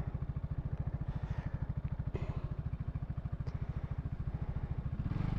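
A motorcycle engine cruising down a highway, its fast, even pulsing throb loud and steady throughout, with wind rumble and no talking.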